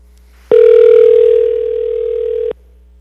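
A telephone dial tone on a line calling in for public phone testimony at an Anchorage Assembly meeting: a loud, steady two-second tone that starts and stops abruptly, heard alone.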